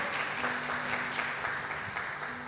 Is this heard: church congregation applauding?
yes